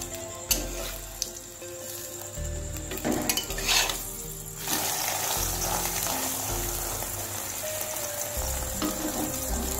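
An egg roll flatbread fries in oil in a pan, with a steady soft sizzle close by, a few sharp clinks of utensils, and low hum underneath.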